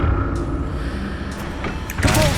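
Accio summoning spell cast in the Hogwarts Legacy video game: a short magical whoosh with a shimmering swell near the end, over a steady game-ambience bed, with no talk.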